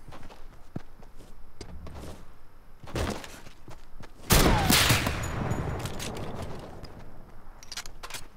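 Hunting rifle fire in the mobile version of Fortnite: a few sharp shots stand out, the loudest followed by a lingering rumble, amid light in-game footsteps and clicks.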